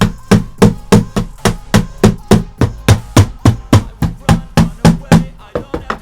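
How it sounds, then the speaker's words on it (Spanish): A hammer driving tacks into a homemade YouTube 1000-subscriber plaque, about seventeen sharp, loud, evenly spaced blows close by, the last few coming a little faster. "agarramos a nuestro amigo martillo y le vamos a dar unos buenos golpes"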